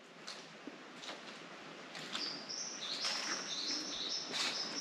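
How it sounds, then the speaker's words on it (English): Bird song in a green rainforest on the Atherton Tablelands: repeated high, bright whistled phrases and chirps, fairly distant and soft, over a constant hiss of ambient forest noise. "I love the sound of that bird."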